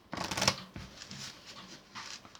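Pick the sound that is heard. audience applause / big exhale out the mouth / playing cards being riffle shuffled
playing cards being riffle shuffled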